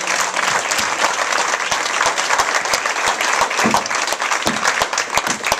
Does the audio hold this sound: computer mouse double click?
no